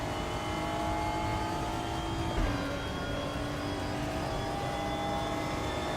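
A V6 race car engine in the racing game RaceRoom drones at a steady high pitch, briefly dipping as it shifts gear, then holding its buzzing tone; no voices.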